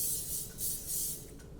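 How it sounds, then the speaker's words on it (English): Short hissing bursts of cooking spray into a bundt pan, three quick puffs close by and fairly quiet. "I'm just going to spray the bump pan,"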